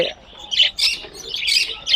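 Caged pet birds at the Mirpur 1 bird market in Dhaka, with loud, close bursts of chirping and squawking coming in irregular clusters.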